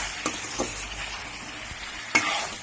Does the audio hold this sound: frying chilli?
yes